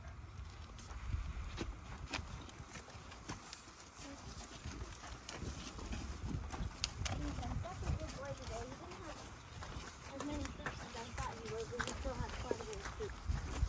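Hooves of Ziggy, an older horse, clip-clop at a steady walk on the way back from the stable, a continuous close rhythm under ongoing talk and outdoor background noise.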